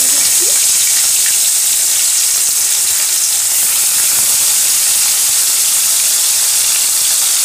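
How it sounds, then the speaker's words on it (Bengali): Katla fish pieces rubbed with salt and turmeric fry in hot oil, giving a loud, unbroken close-up sizzle and hiss with no voices. "তেলটা কিন্তু আমার হয়ে গেছে, এখন আমি এর মধ্যে মাছগুলোকে দেব।"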